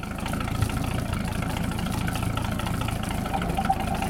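A 1946 Century Sea Maid boat engine idles steadily up close, its low, even rumble unbroken from start to finish with no talk over it.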